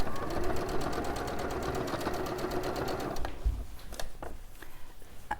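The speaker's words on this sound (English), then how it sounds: "go and edge stitch it so that keeps it nice and flat" Sewing machine running steadily as it edge stitches a cushion, a close, continuous buzzing whir for about three seconds before it stops, leaving a few soft handling clicks and knocks.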